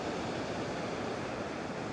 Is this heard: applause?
no